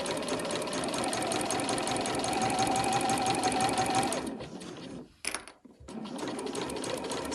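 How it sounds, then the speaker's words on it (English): A sewing machine runs a regular straight stitch through cotton bunting fabric with a universal needle, a steady continuous whirr for about four seconds, then slows, pauses and stops briefly before resuming. "So I'm just going to sew with a regular straight stitch."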